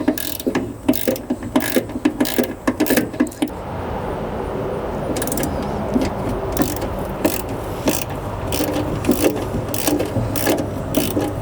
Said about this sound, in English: what I need to do is remove the bolts on each side of the solenoid, and I need a 3/8 socket for that.